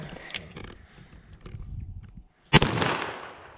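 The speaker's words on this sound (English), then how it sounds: "Because Dad's revolver is loud." A single loud revolver gunshot cracks sharply near the microphone, followed by a decaying echo, after a stretch of quieter background noise with faint movement.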